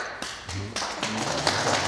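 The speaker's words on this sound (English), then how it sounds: "Why are you applauding?" Applause from an audience at a live performance, scattered claps building into a fuller patter over under two seconds, heard on its own.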